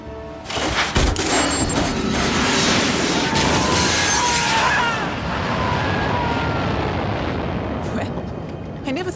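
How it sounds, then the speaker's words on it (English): Jet aircraft engine from a Hitman video game cutscene roars loudly and steadily with a sharp burst at the start, a continuous broad rush that slowly fades. "Well, I never thought they would use a functioning jet."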